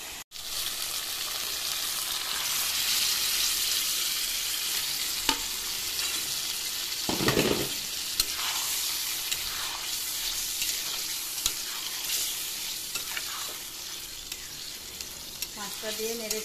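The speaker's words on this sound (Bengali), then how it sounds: "মশলাটা ফুটে উঠছে, এবার মাছটা দিয়ে দেবো।" Bombay duck fish goes into a bubbling spice masala and sizzles loudly, a dense steady frying hiss up close with a brief louder splash of stirring midway and no speech.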